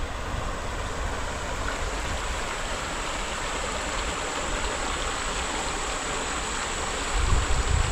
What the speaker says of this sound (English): Peaceful sound of water.